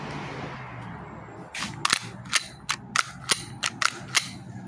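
Several sharp plastic clicks and snaps of an Umarex Glock 17 Gen5 airsoft pistol, the slide racked and the trigger dry-fired in an uneven series, close and crisp over faint background noise.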